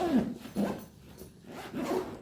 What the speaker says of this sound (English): if you notice from up here there's a zip